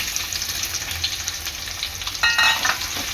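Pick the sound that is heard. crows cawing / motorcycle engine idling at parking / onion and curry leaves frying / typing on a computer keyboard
onion and curry leaves frying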